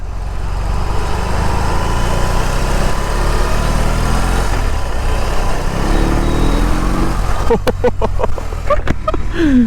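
A 1800cc motorcycle engine runs loud and close with a steady low rumble, rising briefly in pitch as it revs, then a burst of sharp clicks and mechanical clatter near the end.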